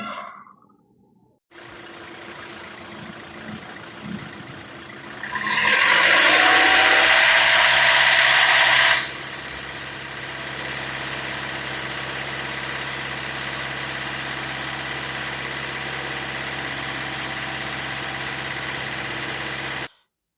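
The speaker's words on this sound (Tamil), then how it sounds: "வண்டி உங்களுக்கு ஸ்டார்ட் பண்ணி இன்ஜினோட நாய்ஸ் எல்லாமே காமிக்கிறேன்" Hyundai Creta SUV starting up: after a short crank the engine catches with a loud rev of several seconds, then settles into a steady, even idle that runs to the end with no one speaking.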